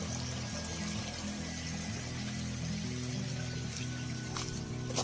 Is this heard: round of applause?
no